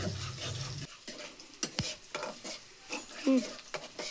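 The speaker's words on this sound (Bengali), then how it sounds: "জিরে এর ভিতর দিয়ে মাখাচ্ছি। সুন্দর করে মাখা ফেলতেছি।" Cumin and turmeric are stirred through cauliflower in a hot pan, a gentle sizzle broken by soft scraping strokes and a couple of sharp spoon knocks against the metal, with no talking.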